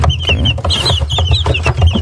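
Eighteen three-week-old white Silkie chicks and three Super Silkie chicks kept indoors peep and cluck close up in a busy overlapping chorus of short, high chirps.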